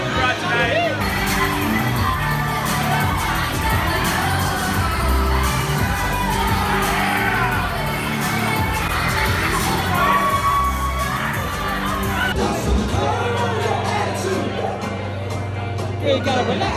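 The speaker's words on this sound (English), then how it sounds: "We've got a big crowd tonight." Big crowd at a dance night at a bar, cheering, whooping and shouting continuously over pounding music, with loud chatter throughout and a brief drop in the noise near the end.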